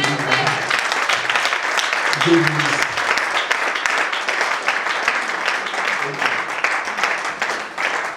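A church congregation applauds and cheers in a steady, dense wash of clapping that lasts throughout, with a voice faintly heard beneath it.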